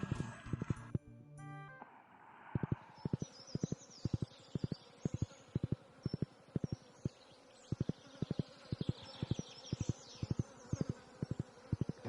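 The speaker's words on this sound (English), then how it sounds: "God, these bees are noisy." Bees buzz close by in a steady drone, while a sharp rhythmic clicking repeats evenly throughout and a brief tonal burst sounds near the start.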